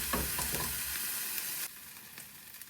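Korean mini meat patties sizzle in a frying pan, a close, loud crackling fry that drops to a quieter steady hiss partway through, with a few light clicks.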